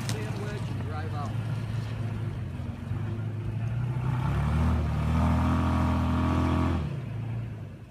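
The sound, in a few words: Toyota Tacoma pickup truck driving up through sand with crawl control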